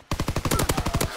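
Rapid automatic gunfire in a first-person shooter game, about a dozen sharp shots in a fast even burst, loud and close.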